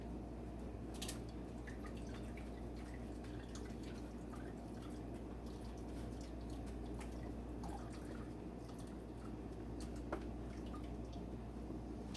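Melted butter being strained into ghee, with faint scattered drips and small liquid ticks over a steady low background hum, quiet and close, with no talking.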